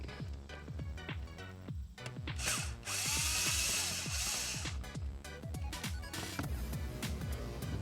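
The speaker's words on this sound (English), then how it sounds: "the first step is to remove this screw" A power drill whirs in bursts while a screw is backed out of an interior panel on a 2018 Subaru Forester XT, with a long steady spin in the middle and clicks between.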